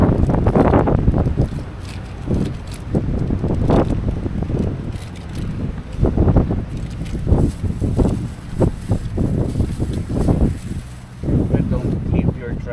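Strong gusting wind roars and buffets the microphone at a cold-weather motorcycle campsite, loud and continuous with rushing surges, while a person talks over it.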